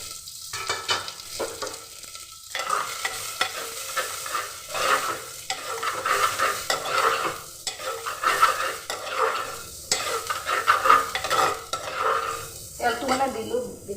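Onion, ginger and garlic sizzle and fry in a little oil in a clay pot, with steady crackling and repeated stirring scrapes continuing throughout.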